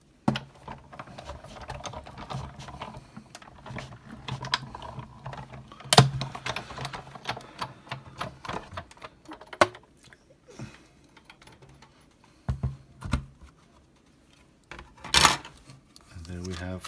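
A sewing machine stitching scallop fabric pieces runs in bursts of soft mechanical whirring and clicking, close by, with quiet pauses and a few sharper clacks between runs, and no talk over it.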